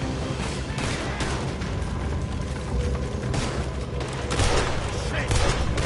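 Gunfire in Red Dead Redemption 2, a dense ongoing shootout with cracking shots and clattering mechanisms under a constant wash of noise, and voices speaking over the fighting.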